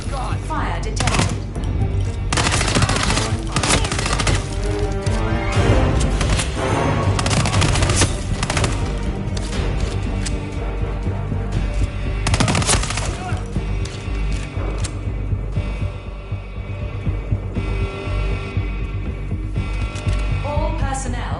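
Gunfire in the Hitman 3 video game crackles in dense, rapid bursts and scattered shots across the whole stretch, loud and busy, with occasional heavier bangs mixed into the barrage.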